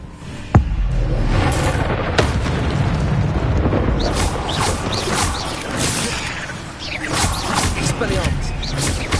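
Incendio fire spell cast in Hogwarts Legacy during a fight with spiders near a bridge: a sharp impact followed by a loud, sustained roaring burst of flame and crackling combat noise, with a voice speaking over it.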